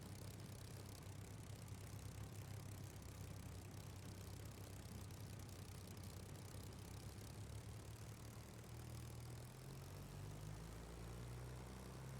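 Low, steady propeller drone of a Spitfire engine idling after landing in Microsoft Flight Simulator 2020, continuous and faint with a slight pitch rise near the end.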